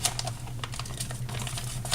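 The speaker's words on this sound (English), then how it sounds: "So we're just going to cut the side of the bag open since we don't need to save it." Plastic mozzarella cheese bag being cut open along its side in a home kitchen, giving a close, steady run of crisp snips and rustles over a low constant hum, with no talking.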